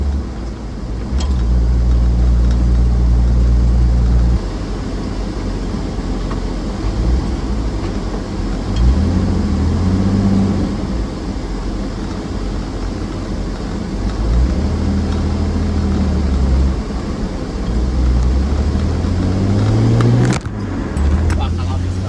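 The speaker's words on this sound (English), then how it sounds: "we have just bought the car, driving it home, and it is a beast" Inside a Toyota Land Cruiser 75 Series driving along, a loud, steady engine drone rises and falls with gear changes, with someone talking over it.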